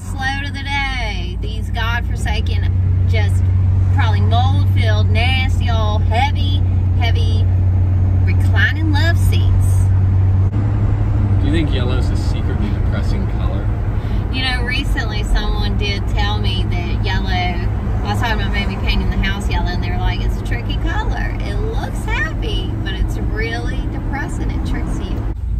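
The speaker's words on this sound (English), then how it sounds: "We're driving to the dump with our last load of the day." A car carrying a load drives to the dump, its engine and road noise humming steadily beneath people talking for most of the stretch.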